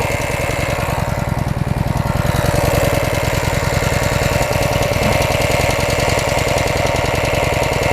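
The small engine of a Maruyama high-pressure sprayer runs steadily and loudly, with a rapid rhythmic knocking chug that holds even throughout, and nobody speaks.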